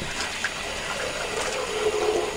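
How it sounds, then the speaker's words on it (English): Hot water runs from a tap into a bathroom sink, a steady close rushing stream that holds at an even level for the whole stretch, with no voices. "I'm going to go ahead and fill up my sink here with hot water"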